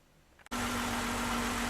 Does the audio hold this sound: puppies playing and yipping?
no